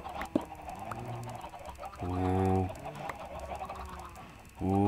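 Chickens clucking in the Minecraft game world, several short harmonic clucks in bursts, one louder cluster mid-clip and another at the end, over a steady background with faint talk.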